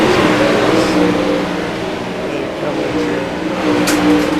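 Winged sprint cars race around a track, a steady loud engine roar sustained throughout as a race announcer talks over it.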